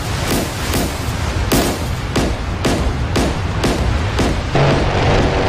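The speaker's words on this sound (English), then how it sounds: "Oh, harpoon just hit him in the face" Video-game Harpoon missile strikes an Iranian corvette in DCS during a 1988 naval battle reenactment, heard as a rapid series of loud, close blasts and booms at a steady rhythm, one after another over a constant rumbling roar.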